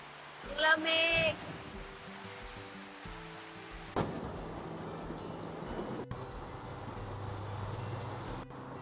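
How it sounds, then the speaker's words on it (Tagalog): Steady heavy rain hisses throughout, with a brief voice near the start and a couple of sharp knocks partway through. "Nagising ako sa lakas ng ulan."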